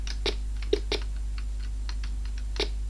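PC keyboard keys pressed during a game of Arkanoid on a Thomson TO8 emulator, irregular sharp clicks and taps over a steady low electrical hum.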